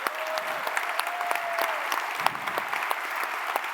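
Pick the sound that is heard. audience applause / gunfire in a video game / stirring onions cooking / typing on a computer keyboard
audience applause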